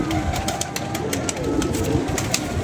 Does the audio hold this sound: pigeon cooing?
yes